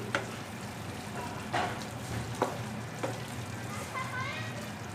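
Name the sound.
stirring aloo methi palak sabzi in a pan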